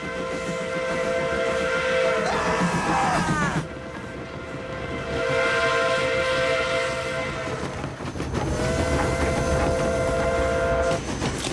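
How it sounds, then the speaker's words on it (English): A cartoon train in Family Guy rumbles past, loud and close, with a shrill steam-style whistle blowing in long repeated blasts over the rolling wheel noise. "Train!"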